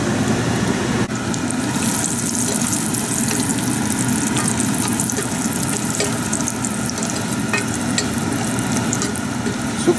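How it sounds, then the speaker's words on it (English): Cashews frying in a hot pan while cooking Indian chicken curry, giving a steady, close sizzle that runs unbroken with faint clinks and stirring scrapes mixed in. "So fry the cashews for just a little bit, just to give it a little bit of color."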